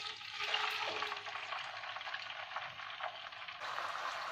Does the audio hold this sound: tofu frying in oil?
yes